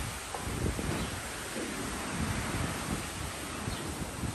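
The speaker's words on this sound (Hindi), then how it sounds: "हवा चल रही है।" Wind blows steadily outdoors after rain, a constant loud broadband rush buffeting the microphone for the whole stretch with no voices.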